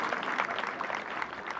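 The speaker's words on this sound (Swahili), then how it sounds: "Hurai muthuri ucio makofi mega." A crowd claps for an elder at a life-celebration gathering in a brief, moderately loud burst of dense, even applause.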